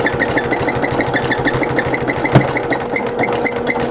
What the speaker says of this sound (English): I'm going to go ahead and start sewing my rows together